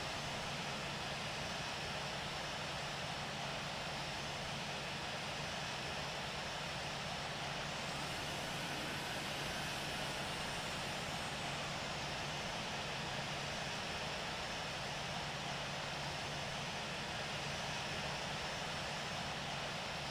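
A Boeing 777-200 in Aeromexico livery taxis to the runway in a flight simulator game, a steady, loud broadband whine and roar of jet engines that holds without change throughout.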